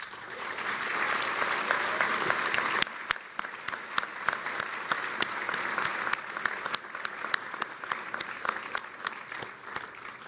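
An awards-ceremony audience at a J.D. Class of 2019 event applauds the winners, a steady wash of many hands that thins after a few seconds into more distinct individual claps, moderately distant.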